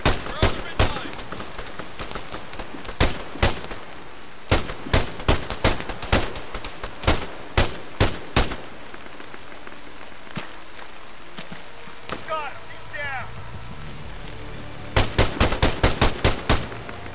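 Fiery, incendiary-like explosions in the military game ArmA 3 Contact go off as sharp, repeated cracks in irregular clusters, with a long quieter stretch in between and a dense final volley.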